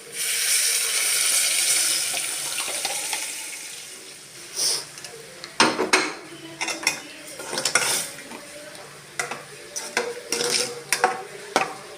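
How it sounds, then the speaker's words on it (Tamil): Mashed cooked lentils poured into a pan of sautéed onions for spicy lentil sambar, a wet sloshing pour followed by clinks and scrapes of a spoon against the pan, close and moderately loud, with no talk. "இப்போ நம்ம கடைஞ்சி வச்சுருக்க பருப்பை எடுத்து அதில் ஊற்றிடலாம்"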